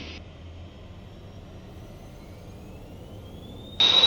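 Twin jet engines of an Embraer Phenom 300 spool up for takeoff, starting as a low cabin hum with a rising whine that climbs steadily before a sudden louder roar near the end.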